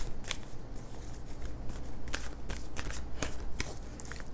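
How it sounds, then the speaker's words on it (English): Tarot cards being shuffled by hand, a continuous papery riffling with repeated sharp flicks and slaps, close and fairly quiet, with no talking. "If I could shuffle, that'd be great."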